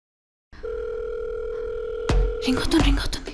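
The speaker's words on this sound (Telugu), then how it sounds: "రింగ్ అవుతుంది." A phone call rings through: after a moment of silence, a steady electronic ringback tone plays for about a second and a half, then gives way to voices talking.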